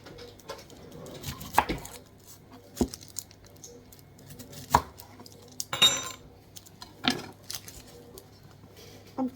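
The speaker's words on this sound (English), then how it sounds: "so I'm going to cut the onion." An onion being cut with a knife for a spicy pork marinade: scattered sharp knocks of the blade on a board, irregular and close, with quiet gaps and light kitchen clatter between.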